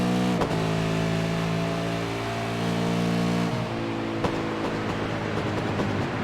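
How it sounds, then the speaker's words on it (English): Racing car engines at Silverstone GP during an AOSC Super Series race, with a sustained harmonic engine drone that shifts pitch as cars pass, a couple of sharp transient bangs, no talking. "I should probably shut up and then we could actually hear the engine notes"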